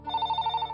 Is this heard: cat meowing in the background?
no